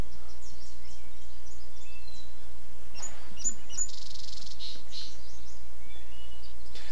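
Birds chirp and tweet in the point-and-click game Gabriel Knight 2: The Beast Within, scattered short calls over a low steady hum, with a brighter burst of song near the middle.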